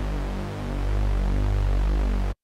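A Reese bass patch built in Serum, with an LFO modulating phase, drones as a loud, thick, sustained low synth tone that swells slightly and wobbles, then cuts off abruptly at the end.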